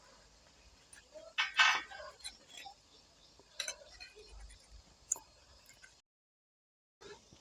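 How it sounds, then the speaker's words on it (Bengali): A knife loosens the edges of steamed flour pitha in a bowl, giving faint scattered ticks and light metallic clinks in a quiet kitchen, with a brief cluster of sharper scrapes and a short silent gap near the end. "এবার ছুরি দিয়ে এই ধারগুলোকে আস্তে আস্তে করে ছাড়িয়ে নিতে হবে"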